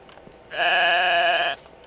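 A single sheep bleats loudly and close in the video game Medieval Dynasty, one sustained, wavering call of about a second against a quiet background.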